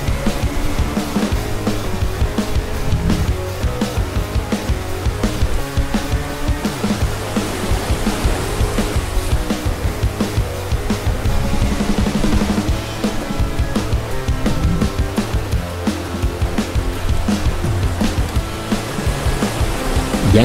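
Ocean surf breaks continuously near a shoreline spot for snook fishing, a loud, dense rushing roar that swells and churns for the whole stretch with almost no talk.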